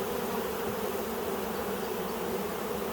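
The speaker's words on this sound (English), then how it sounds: "Quite a few bees up here on the inner cover." Honeybees in a small nuc hive hum in a dense, steady buzz near the opened inner cover, many insects droning together without a break and with no talk.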